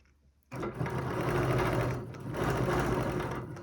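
A sewing machine stitches a quilt in a quick burst. It starts suddenly after a short quiet lead-in, then hums and clatters steadily at close range with a brief dip in the middle, and no one speaks.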